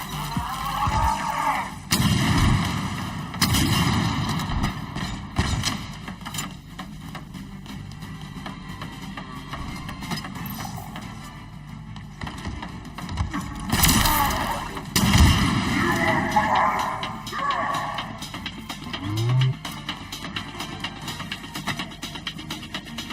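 Gunfire and explosions from the video game Call of Duty: Modern Warfare 2, including a thrown grenade, come as sharp repeated bursts and booms over a rumbling battle bed.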